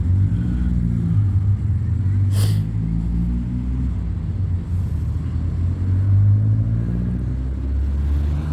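A Mercedes SL at a vintage vehicle show in Castle Douglas sounds as a continuous loud low engine rumble close by, with someone talking over it throughout.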